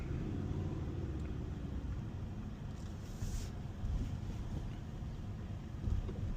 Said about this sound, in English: You notice me driving right here.